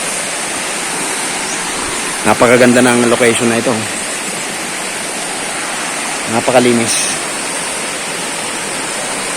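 Strong river current rushing near a waterfall in General Nakar, Quezon, a loud, constant broadband roar of water throughout, with someone speaking briefly twice over it.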